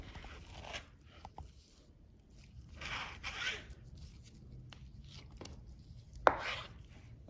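A knife works through a rack of pork ribs, cutting off the first bone, giving soft intermittent chopping and slicing sounds at close range, with one sharp click near the end and no talking.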